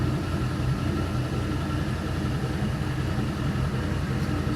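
A warmed-up LS V8 engine idling at a steady 650 RPM, a constant low rumbling hum close by with no revving and no talking.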